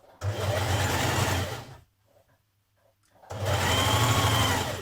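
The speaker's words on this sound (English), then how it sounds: "Now sew down your side seams, matching your notches and letting your darts fall down flat." Sewing machine stitching the side seams of a woven top, a loud fast whirring run that stops for over a second with faint handling sounds, then starts again at full speed.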